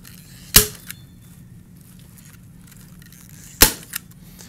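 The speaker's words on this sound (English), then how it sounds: "just take your gun and go ahead and staple this on to the trellis" A staple gun firing staples through a floral wall panel onto a trellis, two sharp, loud snapping clacks a few seconds apart, each with a small follow-up click, in otherwise quiet surroundings.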